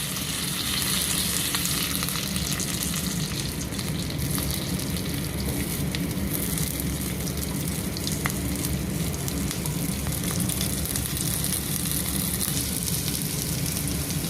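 Spices and curry leaves fry in hot oil for tempering, giving a dense, continuous crackling sizzle that stays loud and even throughout, with no voices.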